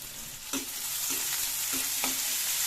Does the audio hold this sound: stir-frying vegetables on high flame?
yes